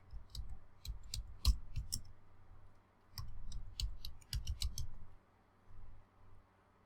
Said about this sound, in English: I'm typing in the topic opioid epidemic.